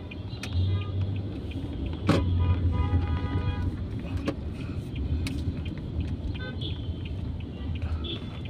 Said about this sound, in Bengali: রাস্তায় হালকা পাতলা জাম আছে।